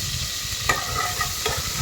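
Chopped onions fry in hot oil with mustard seeds, cumin and fenugreek, giving a soft continuous sizzle broken by a couple of sharp stirring scrapes from a spoon in the pan.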